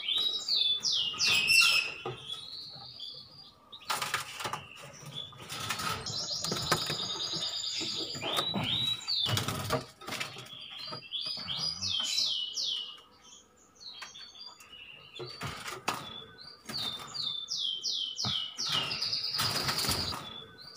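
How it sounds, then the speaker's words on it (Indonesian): Canary chicks about 25 days old give repeated high, thin chirps in quick bursts close by. Frequent wing flutters and rustling handling noises break in between the calls. "masukkan satu persatu anakan kenari yang berusia 25 hari yang masih dilolos sama indukannya"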